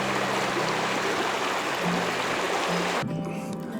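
A river streams past a backpacking campsite in the High Sierra: a loud, steady broadband rush of moving water, close and continuous, with a faint low hum under it, then a sudden drop-off near the end.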